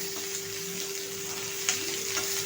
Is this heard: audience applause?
no